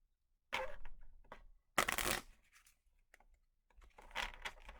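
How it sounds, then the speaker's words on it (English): New Solar Storm board game cards are shuffled close up in a quiet room, three quick riffling bursts of papery flutter separated by short pauses and a few light taps. "I always like to do a shuffle test."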